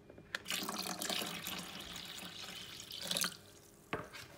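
Water runs steadily into a foot bath at a pedicure, splashing and churning as it is stirred by hand, with a brief louder splash near the end; close and continuous, no talking.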